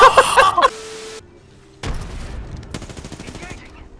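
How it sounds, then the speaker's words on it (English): Video-game gunfire: a loud burst of rapid shots opens, then quiet, then a booming shot followed by more scattered rapid fire and crackling at mid distance. "They're shooting at me"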